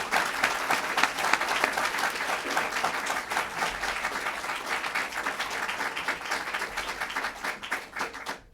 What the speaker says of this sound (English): I'm going to ask for a round of applause before I complete even her introduction